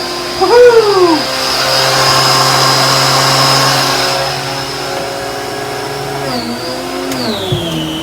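A Bissell Big Green carpet cleaner runs on carpet with a loud, steady motor whine and suction roar, rising briefly at the start and dipping in pitch as the machine shifts near the end.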